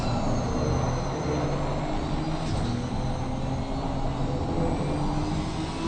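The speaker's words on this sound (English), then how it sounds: "Love the engine sounds of these GT4 cars." GT4 race cars lap Misano in the Assetto Corsa Competizione video game during a three-hour endurance race, their engines making a steady, dense, distant roar that drones on without a break and with no speech.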